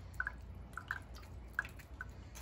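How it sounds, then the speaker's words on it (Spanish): Water drains from an opened can of tuna in a few soft, irregular drips and small splashes, faint and close against quiet background noise. "Vamos a quitarle un poquito de agüita para que no..."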